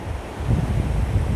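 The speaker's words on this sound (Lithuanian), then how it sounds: "Jūra šiandien labai nerami." Rough waves crash and wash onto the Baltic Sea shore in blustery wind, a loud, close, continuous roar with gusts buffeting the microphone.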